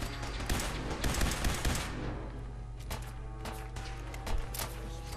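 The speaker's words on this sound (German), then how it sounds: "Einfach in die Menge ballern." Loud bursts of rapid automatic gunfire from Fallout 4 crowd the opening seconds, then ease into scattered sharp shots with dense game background between them.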